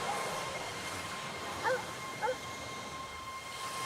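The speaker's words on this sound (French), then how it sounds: "Il y a un chien?" Distant dog barking twice, faint short yelps over a quiet jungle background with a steady hum.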